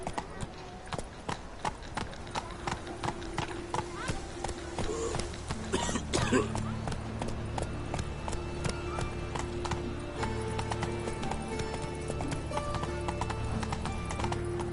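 Hooves of the horse Roach clip-clopping at a walk in The Witcher 3, a steady rhythmic clatter that stays fairly loud and close throughout over a low ambient game background, with a brief rougher burst partway through.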